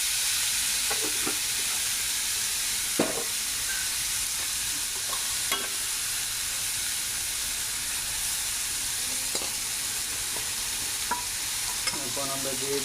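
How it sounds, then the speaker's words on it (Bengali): Small pieces of potato frying in a pan with green chillies, giving a steady, dense sizzle throughout, with occasional sharp crackles and scrapes of stirring. "এখন দিয়ে দিলাম হালকা অল্প কিছু আলু। এগুলো আমরা এখন ভেজে নেব।"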